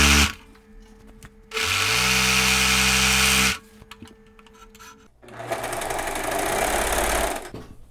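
Sewing machine reinforcing a straight seam on a blazer, two loud bursts of fast mechanical whirring stitching separated by a quieter pause with handling noise.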